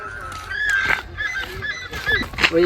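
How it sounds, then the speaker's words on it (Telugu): Chickens cluck and squawk close by in a busy, overlapping chorus of short calls. "ఇక్కడ కోడి ఉన్నది కదా"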